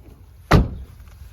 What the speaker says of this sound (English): The doors all shut nice and solid.